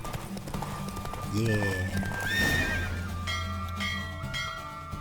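In The Witcher 3, a horse neighs loudly over hooves clip-clopping at a run, along with game effects and a brief spoken word.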